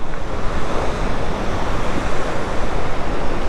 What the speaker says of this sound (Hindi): नदी की आवाज़ भी आ रही होगी आप लोगों को